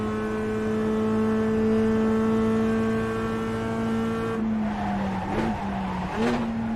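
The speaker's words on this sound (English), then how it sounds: "Poor little Mazda can't really accelerate up that hill very much" A Mazda race car at Road America in a racing video game strains uphill with a steady, strained engine drone holding one pitch, then drops off as the tires squeal briefly through a corner, close and loud.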